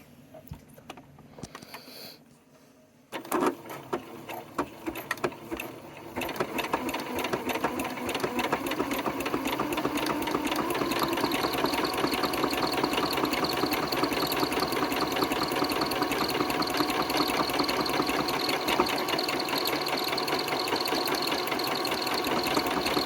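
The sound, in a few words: sewing machine stitching a buttonhole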